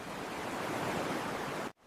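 Animated waves on a beach in Brazil roll in as a broad, steady wash of surf noise, close and fairly loud, cutting off abruptly at the end.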